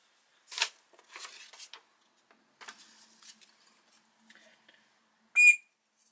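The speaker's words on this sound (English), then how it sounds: "Whistle works." Scattered handling rustles and taps, then one short, sharp, loud whistle blast close by near the end.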